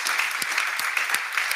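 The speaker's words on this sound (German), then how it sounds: "ich glaube, er hat sich einen Applaus verdient" Audience applause at an Austrian innovation evening on culture and technology, a steady wash of clapping hands sustained evenly through the short moment with no voices over it.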